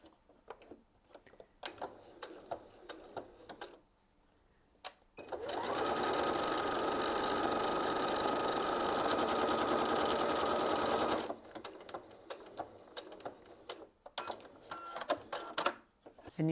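Viking Onyx 30 sewing machine stitching a mirrored flower stitch combination: a steady, fast mechanical whir and rapid needle clatter runs for about six seconds mid-clip, with quieter clicks and handling noise before and after.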